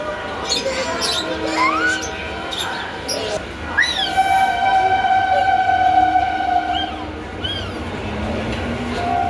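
A train ride carries a low rolling rumble with repeated rising, whistling metallic squeals from the wheels, and voices are heard over it throughout.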